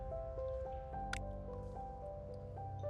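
Water dripping into a glass in the video game Metro 2055, a run of bright, resonant plinking drops at an irregular, fairly quick pace, each with a pitched tone, over a low steady game ambience.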